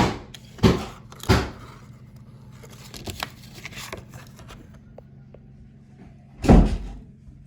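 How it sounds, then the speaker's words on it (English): Two sharp bangs of a door closing come close together, then near-silence before one more loud thud slams shut near the end. "Shut the door!"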